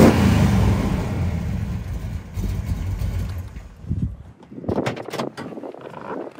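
A 1979 Pontiac Trans Am with a built 400 engine and roller rockers rumbles loudly up close, the deep idle dropping away midway before a few sharper bursts of sound near the end.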